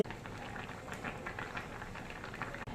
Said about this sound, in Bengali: ডাল আর পুঁইশাকের ডাঁটাটা এখন সিদ্ধ করতে বসাবো